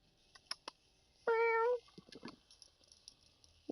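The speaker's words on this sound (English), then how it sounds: "What's my pretty kitty doing?" In the video game Star Trek Online, a single clear cat meow rises and falls for about half a second, surrounded by faint clicks and soft background sounds.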